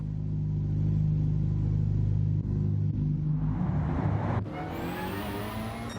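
A Ford Focus rally car engine in Gran Turismo 7 drones steadily and loud at low revs after a pit stop, then revs climb into a rising whine as the car accelerates, with no voices.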